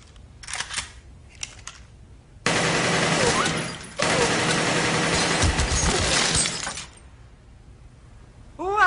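Loud bursts of AK-47 automatic fire, a couple of short volleys followed by long sustained sprays of rapid shots echoing close by.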